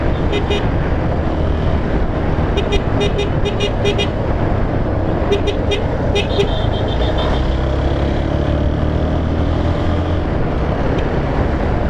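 Dense city traffic heard from a motorcycle filtering through the lane between cars, a Fazer 250 from 2017, with a constant loud roadway roar, low engine drone and several short horn toots scattered through.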